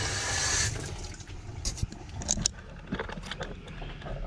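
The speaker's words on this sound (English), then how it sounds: "I'm running the water." Tap water running into the sink of a 2013 Camplite Livin' Lite 16TBS camper trailer, a brief close hiss of flow that stops, followed by faint clicks and handling noises.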